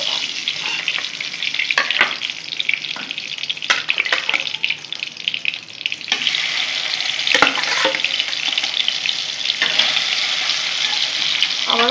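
Raikhar fish fry in oil, a loud continuous crackling sizzle close up with occasional sharp spatters and utensil knocks throughout.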